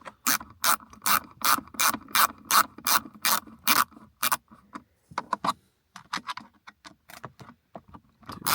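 A ratcheting driver bit loosens screws on the centre console of a Holden VE Commodore. A fast, even run of close metallic clicks gives way to slower, scattered ratchet clicks and clinks.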